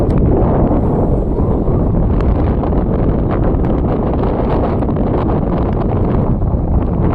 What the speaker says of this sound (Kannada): ಫುಲ್ಲು ಜೋರು ಗಾಳಿ ಬೀಸ್ತಾ ಇದೆ.